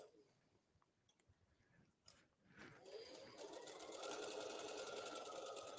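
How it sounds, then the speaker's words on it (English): Sewing machine back stitching at the start of a seam on a cardigan, beginning with a few faint clicks, then running up into a steady, continuous whirring stitch that builds and holds loud to the end. "I'm going to back stitch at the beginning"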